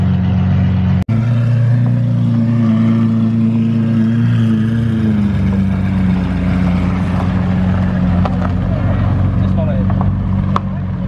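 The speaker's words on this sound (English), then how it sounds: "Another yellow Lamborghini Urus just turned up." A yellow Lamborghini Urus SUV arriving at a classic and supercar show that is part of a gumball rally. Its loud, deep engine rumble drones close by, then eases into a lower idle, with people talking over it.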